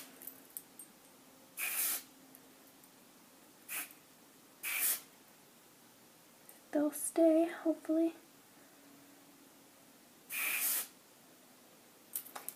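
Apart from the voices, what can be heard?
hairspray being sprayed on hair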